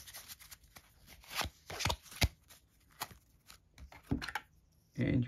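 Cards from the Agents of Mayhem Firing Squad expansion board game being shuffled and handled close up, a run of crisp papery flicks and slaps with a louder rustle at the end.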